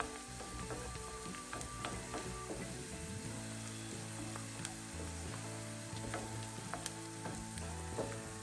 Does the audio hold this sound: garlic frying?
yes